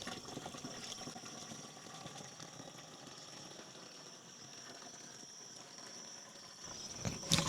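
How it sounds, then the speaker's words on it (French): Water runs steadily into a basin while homemade fertilizer is mixed, a faint continuous trickling and hiss with a brief louder splash near the end. "Donc, on introduit 10 litres d'eau."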